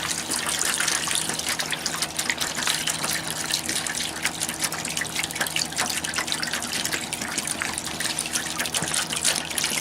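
Apple cider vinegar and water poured into a container for cleaning a 330 Conibear trap, a steady continuous gushing, trickling stream close by throughout.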